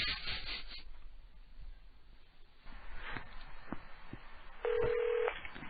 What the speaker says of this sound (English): Do I have to call an operator and get assistance? I don't know how to dial out of the country